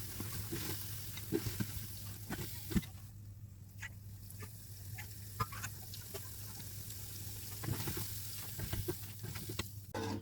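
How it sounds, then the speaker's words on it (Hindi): Steady sizzling of pakoras frying in hot oil, with scattered soft pops and crackles over a constant low hum. "अब हम पैन डालकर इसमें पकोड़े बनाएंगे।"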